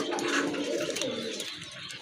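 A pair of local pigeons, one white with black spots, coo softly at close range in a low rolling murmur, with faint human voices behind them.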